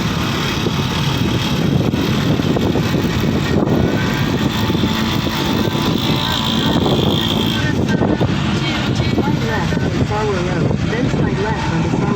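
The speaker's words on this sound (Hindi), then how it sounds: "हेलीकॉप्टर भी आ रहा है।" A helicopter's rumbling rotor noise builds steadily amid wind buffeting, with people talking over it throughout.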